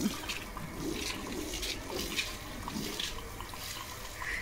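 Steady hiss of water being sprayed to wash a vehicle, splashing onto its surface, continuous and fairly faint, with slight variations as the stream moves.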